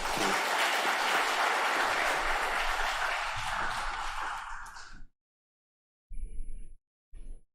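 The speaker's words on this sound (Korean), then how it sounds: "우리 박수로 환영하도록 하겠습니다" A church congregation applauds to welcome a pastor, sustained, dense clapping for about five seconds that fades out, followed by silence and a couple of short, muffled bursts of sound.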